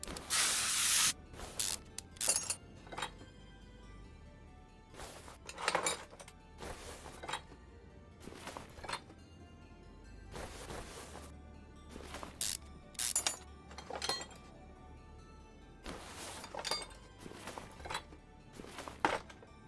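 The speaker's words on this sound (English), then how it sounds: "let's go ahead and remove the shocks" Shocks are removed from a station wagon with power tools in Car Mechanic Simulator 2021, heard as a series of short, loud hissing, spraying bursts, each separated by quiet gaps, with faint metallic clinks.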